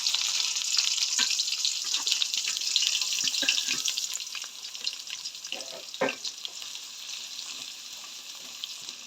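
Chopped onion and green chili sizzle in hot oil in a home kitchen, a steady bright crackling hiss that eases slightly over time, with a few soft stirring clicks.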